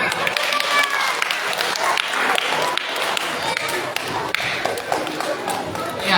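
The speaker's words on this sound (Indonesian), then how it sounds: "Iya, tepuk tangan." Children clapping at a primary school Christmas celebration, a dense, steady patter of many small hands filling the room for several seconds, with a lively crowd murmur beneath.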